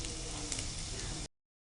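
Onions frying in a pan with turmeric for an onion besan fry, giving a steady dense sizzle, close and loud, that runs unbroken for just over a second before cutting off to silence.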